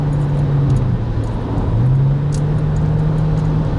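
Steady in-cabin drone of a Nissan Murano cruising at about 70 mph, a low engine hum holding constant with one brief dip, under continuous road and tire rumble.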